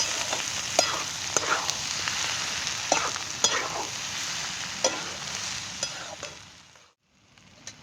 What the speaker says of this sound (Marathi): आता हे सगळं परतून घेणार आहे चांगलं